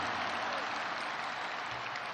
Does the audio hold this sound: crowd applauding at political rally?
yes